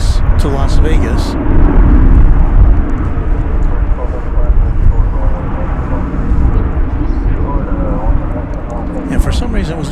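An Airbus A321 airliner bound for Las Vegas rumbles at DFW Airport, a low steady engine noise running under close, continuous talk from a nearby voice.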